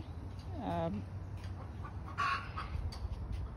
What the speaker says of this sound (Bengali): আছে একটা মুরগির ফার্ম, এইখানে ডিম পাড়ে প্রতিদিনই মুরগি